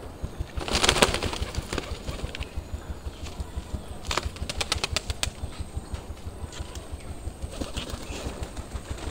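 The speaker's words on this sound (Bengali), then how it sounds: "এগুলো আপনার যে জাক কবুতর" Jak pigeons cooing in a low steady rhythm, with bursts of wing flapping and clattering flutters from a nearby flock throughout.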